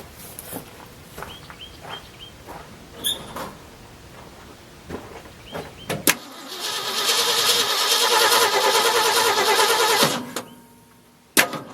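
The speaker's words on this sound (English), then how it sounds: "When you turn the ignition on and start cranking, the light comes on and goes off as the points open and close." An old tractor engine cranks with the ignition on. A loud, steady starter whir runs for about four seconds after some scattered clunks and handling noises, then cuts off abruptly, followed by a sharp click.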